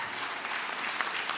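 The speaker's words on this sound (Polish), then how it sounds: "Wielkie brawa, moi drodzy." A talent-show audience in Mysłowice claps in a dense, steady burst of applause, close and continuous for a brief stretch with no voices standing out.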